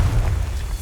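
Confringo blasting spell explosion in the Hogwarts Legacy video game, a deep booming blast with heavy low rumble that fills the whole brief moment and stays loud throughout.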